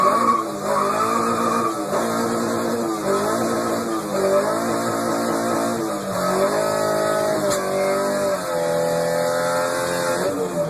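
Drift car tires skid and squeal without traction under a revving engine, loud and sustained, with the pitch rising and falling in repeated sweeps.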